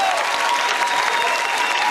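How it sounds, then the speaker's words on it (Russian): A television studio audience bursts into dense, sustained applause, loud and even throughout, with a faint crowd murmur underneath. "Ваши аплодисменты"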